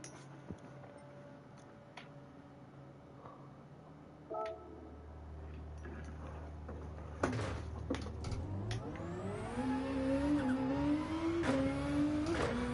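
A Nissan Nismo GT3 race car in the video game Gran Turismo 7 starts with a click and clunk, idles low, then revs up with rising engine pitch through gear changes, loud and close.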